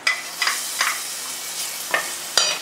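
Chopped onion drops into butter and olive oil in a pan and sizzles steadily, with several short clattering stirs and scrapes at uneven intervals, close and moderately loud.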